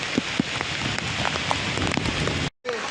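Heavy rain pours steadily during the Kalsubai trek in Maharashtra near a temple, a dense continuous hiss with scattered louder drops, cutting out briefly near the end before resuming.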